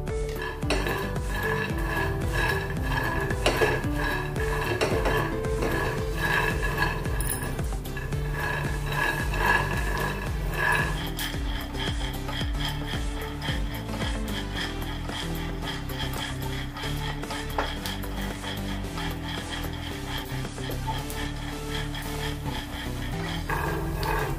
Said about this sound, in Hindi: मूंगफली को मैंने भून लिया है 2-3 मिनट